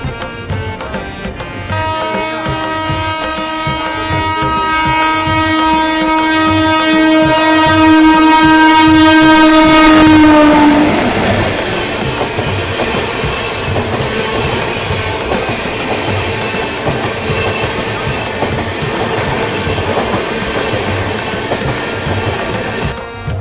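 The Karnataka Sampark Kranti Express from Chandigarh to Yeshwantpur sounds a long, loud horn for about ten seconds, then runs on with a steady rumble and rhythmic clatter of the wheels over the rails.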